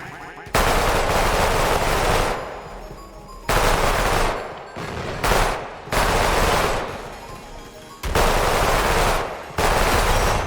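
A sniper-style weapon in the video game Weird Gun Game fires loud, close bursts of rapid gunfire in several volleys, each lasting one to three seconds and separated by short gaps.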